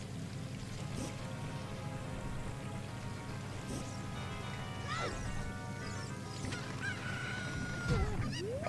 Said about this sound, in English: I hate this chicken so much.